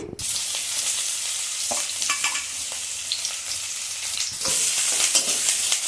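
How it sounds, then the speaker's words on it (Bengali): Chopped onions frying in hot oil in a wok, a loud, steady sizzle filling the whole stretch, with scraping stir strokes of a spatula breaking through at intervals. "পেঁয়াজ কুচি দিচ্ছি"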